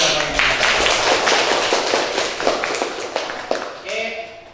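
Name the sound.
audience clapping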